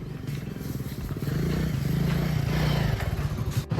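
A motorcycle engine idles and revs up close, a throaty rumbling putter that swells and then cuts off near the end.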